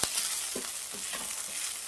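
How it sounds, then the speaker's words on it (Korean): Aged kimchi stir-frying in a pan over high heat, a steady close sizzle with soft scraping stirs breaking through about every half second. "센 불에서 볶고 있어요"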